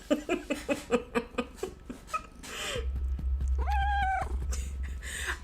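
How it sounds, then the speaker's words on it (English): A house cat purrs in rhythmic pulses close to a microphone, then lets out a clear, drawn-out meow before the purring resumes softly. "where it's just her meowing and purring into the mic for like an hour"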